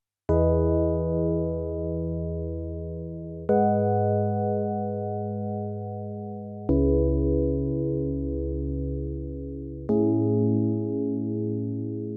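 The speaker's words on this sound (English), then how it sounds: "This kind of glass piano vibe is oftentimes used in R&B songs" A glass-toned piano pad from a Keylab Essential 49-key MIDI controller, the kind used in R&B, plays four long sustained chords that each ring out and slowly fade, clean and alone.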